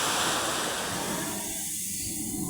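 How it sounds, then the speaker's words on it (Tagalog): Typhoon-driven ocean waves surge in a steady, broad wash of surf, close and fairly loud, with no voices. "Mahaba-haba na naman ang alon. Apektado ng bagyo."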